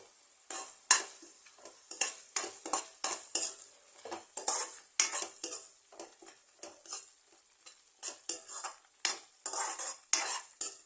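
A spoon scrapes and clinks steadily in a pan as ginger garlic paste, red chilli, turmeric and coriander powders are stirred for rajma masala, a quick irregular rhythm of close metallic scrapes with faint sizzling beneath and no talk.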